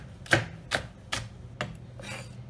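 A knife chops capsicum into pieces on a board, four distinct crisp strikes about half a second apart, followed by a softer scraping sweep, close and fairly quiet with no talking.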